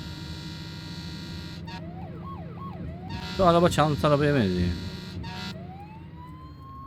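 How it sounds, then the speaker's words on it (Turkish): Fire truck sirens wail in the Flashing Lights video game, a steady rising and falling tone beneath a rumbling engine, with a louder burst of siren mid-way while someone talks over it. "Acil görev olduğu için sirenleri açtık."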